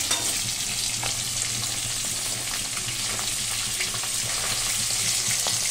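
Three pieces of fish rubbed with salt and turmeric fry in a pan, giving a steady, dense hiss of sizzling oil with faint scattered crackles throughout and no voices.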